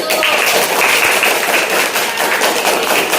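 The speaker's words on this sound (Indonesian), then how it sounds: "Kita beri tepuk tangan kepada kelompok 1" Classroom of students applauding group 1 during a teaching session, a loud, close flurry of many hands clapping with sharp taps and a few thuds, lasting a few seconds.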